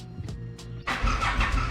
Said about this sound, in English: turn on the engine.